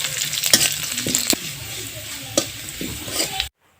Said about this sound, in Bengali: এখন এর মধ্যে হাফ চা চামচ পরিমাণ পাঁচফোড়ন দিয়ে আমি পেঁয়াজ রসুনগুলো কিছুক্ষণ নেড়ে নিব।